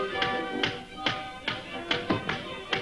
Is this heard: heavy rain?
no